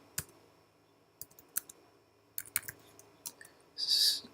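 Sparse clicks of computer keyboard keys as a command is typed into a command prompt, a few separate taps and short clusters at close range, quiet overall, with no speech.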